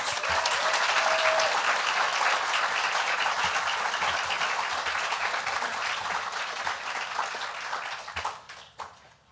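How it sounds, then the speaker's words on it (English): A graduation ceremony audience gives sustained, loud applause, dense clapping with a few cheers that holds steady for most of the time, then thins and tapers away near the end. "Let's give them another round of applause."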